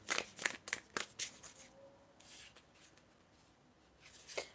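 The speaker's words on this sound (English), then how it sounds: "I'm going to shuffle for more messages for you" Tarot cards shuffled in a quick burst of crisp riffling slaps over the first second and a half, then softer scattered card rustles and a brief final flutter, close and fairly quiet.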